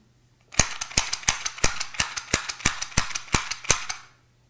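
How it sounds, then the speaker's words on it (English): A 3D-printed revolver-style cylinder mechanism, advanced one position per trigger-button press, gives about fifteen sharp, close clicks in a steady rapid rhythm with nothing else heard. "by pushing on this button here, or I guess you could call it a trigger, it rotates the cylinder by exactly one position"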